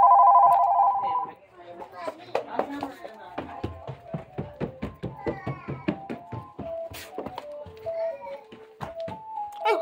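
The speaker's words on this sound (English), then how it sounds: "The phone's ringing!" AT&T house phone ringing with a brief electronic trill at the start, followed by knocks, thumps and a voice talking.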